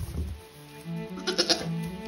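Dairy goats bleat in short, wavering calls, with a few overlapping cries near the end above a steady background hum.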